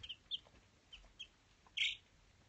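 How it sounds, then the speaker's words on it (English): Baby chicks peep in a few faint, short, high chirps scattered over a quiet background, with one slightly louder call near the end. "so these are my little chicks"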